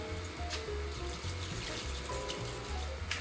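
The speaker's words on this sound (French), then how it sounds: "Je vais maintenant couvrir d'eau à hauteur." Tap water runs steadily into a pot, covering meat for poaching veal for vitello tonnato, a continuous close rushing and splashing pour with no talk.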